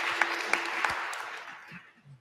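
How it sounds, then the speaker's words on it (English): Audience at a community engagement forum gives a brief round of applause, soft and somewhat distant clapping that fades out within a couple of seconds. "Let's give a round of applause."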